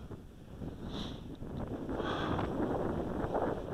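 Strong wind buffets a Walkera QR X350 Pro drone in flight, a steady rushing roar that builds and stays loud, with faint whining tones on top and no talk.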